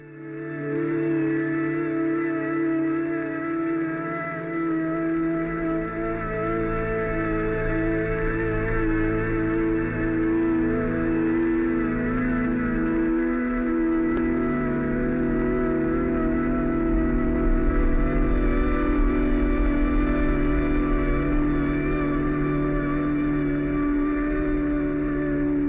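Sustained droning synth tone processed through the AudioThing Octaves reverb, whose shifting low cut setting bends the low end into an odd, warbling hum that swells and changes pitch partway through, loud and continuous with no talking.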